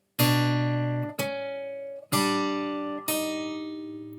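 A measure of Beethoven's Romance in F is played on a bowed string instrument without the first finger held down on B, four sustained, even notes of roughly a second each, close and resonant, with no talk.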